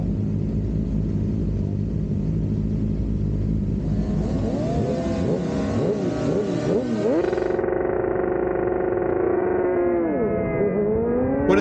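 Racing motorcycles lined up on an Amateur Supersport qualifying grid at a track event, engines rumbling and revving close by, rising and falling sweeps from several bikes layered over a steady low drone.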